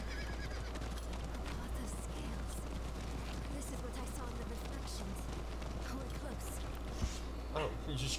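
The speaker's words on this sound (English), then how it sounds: "Oh, we have horses!" Horses in Diablo 4 whinny and clop their hooves amid a busy in-game soundscape, with neighs rising above steady rumbling and people talking over it.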